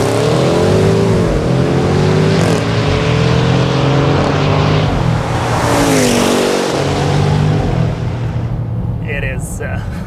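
A Jaguar F-Pace SVR's V8 roars hard on kick-down acceleration from inside the cabin, revving through several gear changes with loud, rising engine tones and a driver talking over it.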